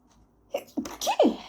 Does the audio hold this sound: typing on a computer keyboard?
no